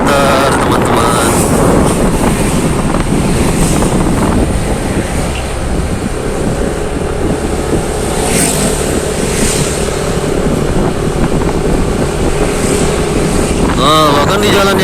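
A Yamaha All New Nmax scooter engine runs steadily while riding on a road, with wind rush over the microphone and a continuous loud drone throughout.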